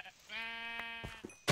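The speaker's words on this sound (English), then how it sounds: "I hear a sheep around here" A single sheep bleats in a video game. The long, wavering, nasal cry is clear and fairly close, and a couple of short clicks follow it.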